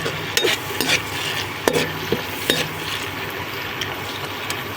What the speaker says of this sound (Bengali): টমেটো আর কাঁচা লঙ্কার পেস্টটা একটু কুক করতে হবে যতক্ষণ না টমেটোর কাঁচা গন্ধটা চলে যাচ্ছে।